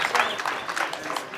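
Applause from an audience at the opening of Khoandawes Primary School, a dense, steady wash of many hands clapping that stays fairly loud through the moment, with some crowd noise mixed in.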